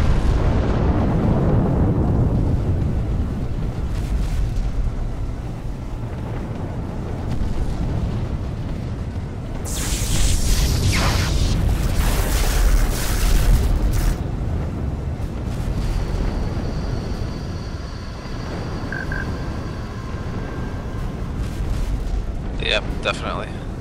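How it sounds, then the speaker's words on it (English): Space battle explosions in the Sins of a Solar Empire strategy game as an allied capital ship is destroyed, deep rumbling booms and bursts layered over game sound, with players talking throughout. "An allied capital ship has been destroyed."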